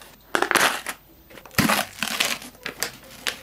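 Sweet barbecue Pringles crisps being crushed and crumpled, a series of sharp crackling crunches in irregular bursts, close and loud, with short pauses between them.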